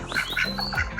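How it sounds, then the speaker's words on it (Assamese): A group of four ducks in an Assamese village gives a brief burst of nasal quacking close by, several calls packed into about a second, with no voices. "ইয়াতো 4টা হাঁহে আছে"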